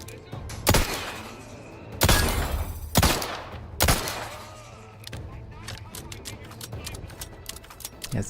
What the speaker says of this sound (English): Somebody already shooting me actively.